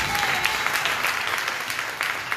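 A church congregation at an Easter service breaks into loud, dense applause that sounds close and continuous, with a few voices crying out under the clapping.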